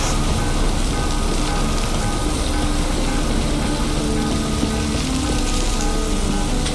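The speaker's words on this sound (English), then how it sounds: "Looks like rain." Steady, dense rain falling on surfaces in the video game The Witcher 3, a continuous even hiss with no pauses and no voices.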